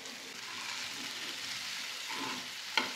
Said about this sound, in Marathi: साबुदाणा खूप मस्त असा फिरवून घ्यायचा।